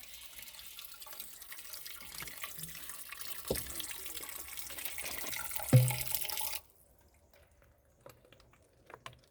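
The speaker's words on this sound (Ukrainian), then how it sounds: "Водичка смачна, прохолодна, джерельна, тече з гір." Cool spring water flowing down from the mountains pours steadily from a tap or spout for several seconds, close and continuous, with a brief splash near the end before it stops, leaving faint drips.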